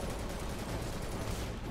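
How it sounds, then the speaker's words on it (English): Rapid gunfire from the video game Final Fantasy VII Remake, a dense unbroken run of shots lasting under two seconds, loud and steady with no talk over it. "Is it dodging my gunshots?"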